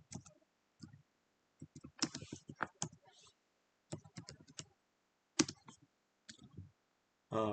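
Keys clack on a computer keyboard in short uneven bursts of typing, crisp and close, with pauses between clusters while a line of QBASIC code is entered.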